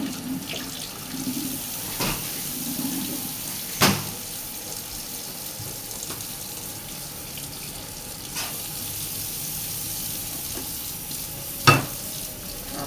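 Shiitake mushrooms rinsed under a running tap for a curry, a steady close wash of water punctuated by a few sharp clacks and knocks.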